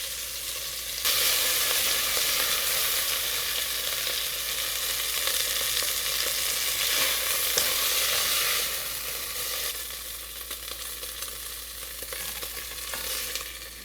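Beef pieces searing in oil in a pot for a stew, a steady loud broadband sizzle that holds for most of the stretch and eases slightly toward the end, with no voices over it.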